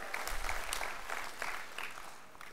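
An audience at a Patanjali Gramodyog gathering claps for themselves: a full, continuous burst of crowd applause, fairly distant and even, fading slightly toward the end.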